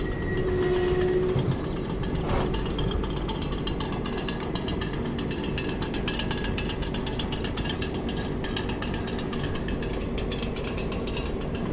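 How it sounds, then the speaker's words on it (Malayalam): Krishna Express from Adilabad to Tirupati rolls past on a triple-track line, a steady close rumble of wheels with dense rhythmic clatter and ratcheting over the rail joints, continuous and loud throughout. "അത് കൃഷ്ണ എക്സ്പ്രസ് ആണ്. ആദിലാബാദ് തിരുപ്പതി കൃഷ്ണ എക്സ്പ്രസ്"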